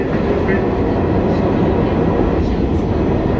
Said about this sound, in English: So the train is moving.